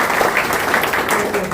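Brief, steady applause for a doctor at a hospital in Tohana, a dense wash of many hands clapping with a voice talking over it.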